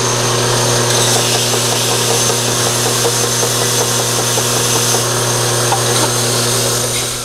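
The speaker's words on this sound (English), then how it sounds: "After filling the holes, I take the sander and do a light sanding." A power sander lightly smooths a wooden donation box after its filled holes, a loud, steady, continuous whine with a constant hum running unbroken throughout.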